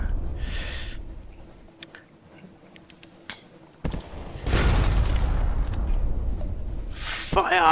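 Naval cannon fire and explosions in the game Sunless Sea, with scattered clicks and then a long, loud rumbling blast that fills the last few seconds, while a voice reacts excitedly over it.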